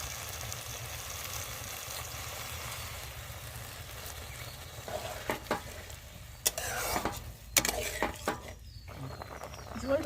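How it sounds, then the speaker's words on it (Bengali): Faint frying of paneer curry: a low steady sizzle, then a spoon stirring and clinking against the pan in scattered irregular scrapes and taps, with quiet background noise. "পনিরগুলো দিয়ে ভালো করে কষে নিয়ে তারপর আমি জল দিয়ে দেবো"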